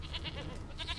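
A goat in the game The Witcher 3 gives a short, close, wavering bleat with a quick series of pulsing cries, loud and without talk over it.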